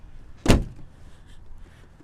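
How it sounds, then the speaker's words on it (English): A single solid thud as the hood of a BMW E39 sedan is slammed shut in the rain, one sharp close impact followed by quiet outdoor ambience. "I'm going to just close the hoods real quick because it's raining"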